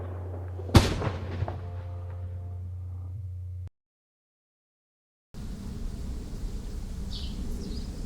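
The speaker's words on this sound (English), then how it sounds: "Firecrackers echo on the streets below." Christmas firecrackers echo through city streets below, one sharp loud crack followed by a trailing reverberant rumble and scattered fainter pops, then a gap of silence and a low distant street ambience.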